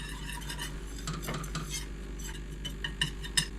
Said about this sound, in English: Give this a whisk.